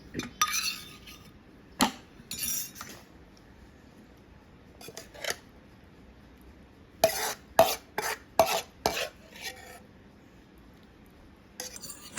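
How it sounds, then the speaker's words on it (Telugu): A spoon stirs a tomato chutney mixture in a pan, making short, separate scraping strokes in uneven clusters with quiet gaps between them. "ఇప్పుడు ఒకసారి కలబెట్టాలి"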